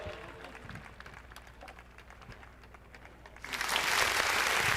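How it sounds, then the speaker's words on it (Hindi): Crowd applause bursts out loudly near the end of the stretch at a live dance competition, dense clapping rising from softer background chatter and murmur. "लगा दो ताली, लगा दो भाई।"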